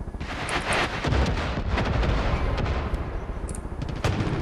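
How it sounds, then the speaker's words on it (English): Gunfire in Far Cry 5 co-op play, a dense run of sharp, loud shots and rattling bursts with a heavy low rumble, a few crisp cracks standing out near the start and end. "we just took a shot from somewhere"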